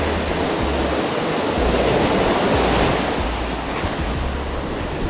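Ocean waves wash in at the seaside, a loud continuous roar of surf with wind buffeting the microphone, no voices.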